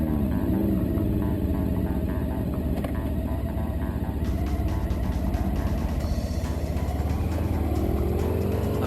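A big Honda ST1300 touring motorcycle engine drones steadily while riding, a continuous close hum with wind rush and slight pitch shifts as the throttle varies.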